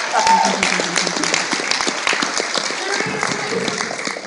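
Applause at an Anime Midwest convention samurai-themed stage show, brisk scattered clapping from a live crowd that keeps going throughout, with a voice and shouts breaking in over it.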